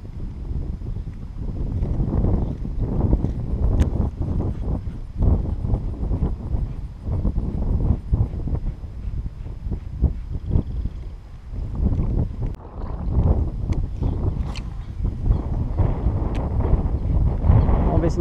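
Strong wind buffets the microphone while fishing outdoors, a continuous rough roar with gusty bumps throughout, and people talk intermittently over it.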